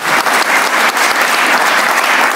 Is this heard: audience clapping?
yes